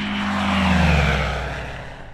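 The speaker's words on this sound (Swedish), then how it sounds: "Niklas Anderberg från Lund har förverkligat sin dröm och konstruerat eget flygplan. Snabbare, snålare, snyggare än något annat i klassen" A homebuilt light propeller airplane from Lund passes by, its engine drone and propeller buzz swelling to a loud peak and then fading as it moves away, with no talking.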